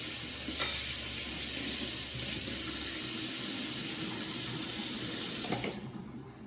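Tap water runs steadily into a sink as fruit is washed beneath the stream, a close, continuous splashing rush that cuts off near the end.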